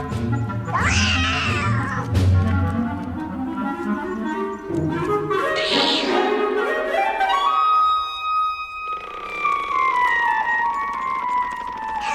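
A cat meows loudly and close by in a storybook adaptation, with several long, drawn-out yowls. Sustained tones follow near the end.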